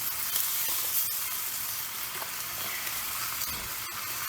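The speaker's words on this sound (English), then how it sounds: "Now I'm gonna hit the veggies with a little bit of Worcestershire sauce." Vegetables sizzling steadily on a hot Blackstone griddle after a splash of Worcestershire sauce, a loud, continuous frying hiss with faint crackles and scraping, no talking.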